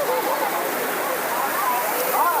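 Steady rushing water pours continuously, a dense broadband roar like a waterfall close by, with faint voices barely audible underneath, at a forceful bathing waterfall at Thalaiyanai, Kalakkad.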